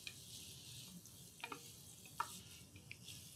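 Onions and garlic cooking in a pan give off a faint, steady sizzle, with a few soft clicks and taps of stirring scattered through.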